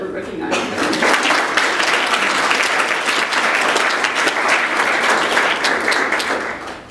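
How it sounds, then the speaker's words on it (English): An audience at a school recognition ceremony gives a sustained round of applause for honored students, a dense wash of clapping that swells, holds steady and tapers off at the end. "let's give one last round of applause for all of our students that were recognized"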